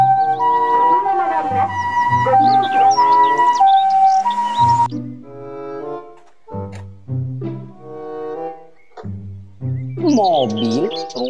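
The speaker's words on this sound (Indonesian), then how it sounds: "Mobil, ambulans" A toy ambulance plays its electronic siren, wailing and warbling tones with chirpy electronic effects, loud and close, stopping and restarting in bursts over several seconds with no talking.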